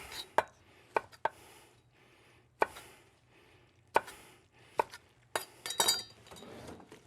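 Knife chopping through the sides of a fresh pineapple on a cutting board: a handful of sharp, isolated thunks spaced irregularly, then a quicker cluster of cuts near the end, close and fairly quiet with no talking.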